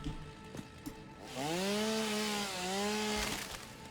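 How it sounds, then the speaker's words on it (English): A chainsaw in the video game Satisfactory revs up and runs steadily with a loud, buzzing engine drone that dips briefly before surging again, heard alone without talking. "don't get too close when I'm running with a chainsaw"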